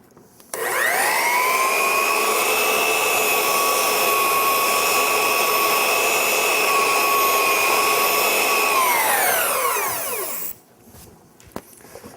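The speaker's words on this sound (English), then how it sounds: "with just a kiss or two on top of that stick, I can very easily clean the belt" Belt sander running while its abrasive belt is pressed against a cleaning stick, a loud steady whine that spins up, holds for about ten seconds, then winds down to silence.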